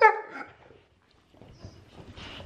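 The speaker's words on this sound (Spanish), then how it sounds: "¡Oye! No me ladres," A dog gives one short, close bark at the start, then faint whimpering and shuffling follow in a quiet indoor room.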